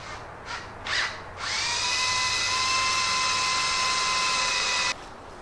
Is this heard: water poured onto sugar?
no